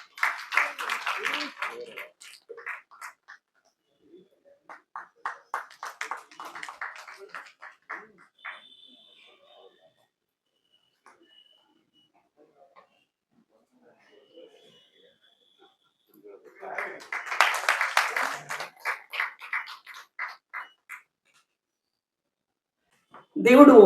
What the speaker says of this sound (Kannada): ತಮ್ಮೆಲ್ಲರ ಪ್ರೀತಿಯ ಚಪ್ಪಾಳೆ.